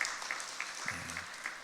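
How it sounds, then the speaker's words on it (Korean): Church congregation clapping in welcome during a Korean Sunday worship service, a soft, even patter of many hands with a faint low tone sounding briefly underneath. "우리 박수로 환영하도록 하겠습니다."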